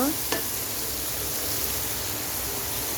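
Spiced masala sautéing in a pan before taro stolons go in, a steady broadband sizzle with a brief scrape of stirring near the start, close and continuous without talking.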